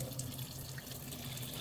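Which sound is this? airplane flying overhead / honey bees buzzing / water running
water running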